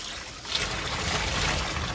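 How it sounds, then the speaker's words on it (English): Water gushes and splashes steadily into a bucket, filling it with fresh water for rinsing a synthetic wig, a close, continuous pouring rush. "I'm going to tip that out and put fresh water in there"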